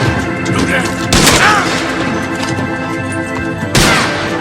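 Gunshots ring out in Saint Denis in Red Dead Redemption free roam, two loud sharp blasts a few seconds apart, cutting through a dense, steady game soundscape with voices underneath.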